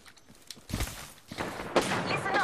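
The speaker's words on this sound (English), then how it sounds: "I'm getting shot at" Gunfire in the video game Apex Legends, a few muffled bursts of shots at moderate distance mixed with game noise and faint voice chatter.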